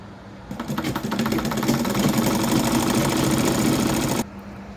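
A sewing machine stitches fabric for a Quran cover, running in one loud, close, steady mechanical whir for about four seconds before cutting off abruptly.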